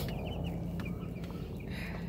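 Backyard chickens near a farm water catchment cluck softly and close by, a few short throaty calls repeating over a faint steady background.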